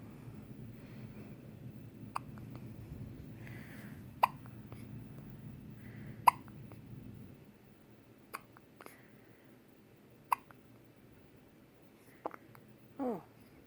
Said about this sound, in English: Did you get the hiccups?